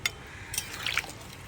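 Milk and a little water poured into a cooking pot on low heat while making shukto, a quiet, brief liquid splash and trickle against faint kitchen background.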